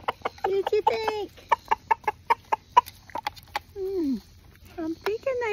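Backyard chickens cluck close by while pecking at chicken bones, giving a run of sharp, evenly spaced clucks followed by a few drawn-out, rising and falling calls and soft chatter.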